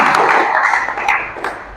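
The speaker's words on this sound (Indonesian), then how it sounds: "Tepuk tangan untuk kita semua." A class of automotive engineering students claps hands together, a short, close burst of clapping with a few distinct strikes that fades out quickly.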